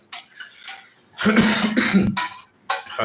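A person coughs several times close by, a short cough followed by a longer, harsh fit and another brief cough at the end.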